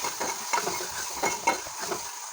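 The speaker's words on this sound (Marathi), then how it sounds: "पुन्हा एकदा मिक्स करून घेऊया" A curry of soaked peas and boiled potatoes is stirred in a pan, soft sizzling under rhythmic spoon scrapes, close and steady for a couple of seconds.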